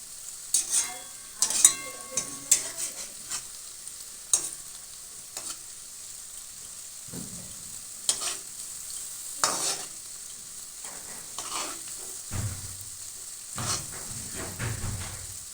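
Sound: spiced pitha (rice cakes) deep-frying in oil

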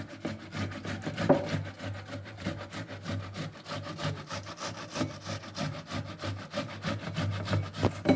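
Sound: grating tomatoes on a grater

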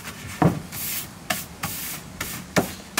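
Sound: spray paint being sprayed on a skateboard

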